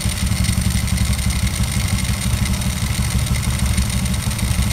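A Honda Supra 125 motorcycle engine idles steadily while its carburetor is adjusted, giving a close, even putter with light mechanical clatter and no voices.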